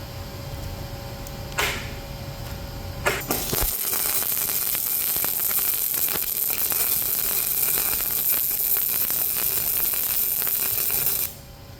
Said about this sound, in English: I'll pull this weld and then I'll push the other one.